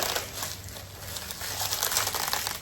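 Plastic packaging holding a gift mug crinkles and rustles steadily as someone struggles to tear it open by hand, close and fairly loud, with no talking.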